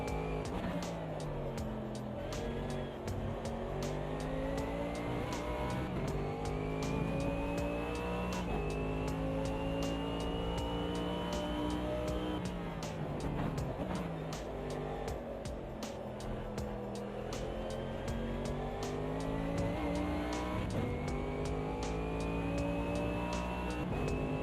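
A race car in a sim racing game is driven hard on cold tyres, its engine roaring continuously near and loud. The pitch climbs and drops through repeated upshifts and downshifts as it brakes and accelerates.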